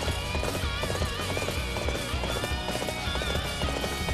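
Horse hooves clip-clop in a rapid galloping rhythm in the Dynasty Warriors 8 Empires video game, steady and continuous under dense battle music and effects.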